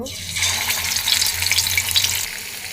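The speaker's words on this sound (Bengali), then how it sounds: "এটাকে আমি এবার ভেজে নেব আমার কিন্তু মাছ ভাজা শেষ" Pieces of rohu fish fry in hot oil in a kadai, a dense and continuous hiss and crackle that stays close and fairly loud throughout.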